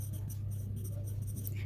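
A pen scratches shorthand strokes onto paper in a class demonstration, with quick soft scratchy marks close up over a low steady background hum.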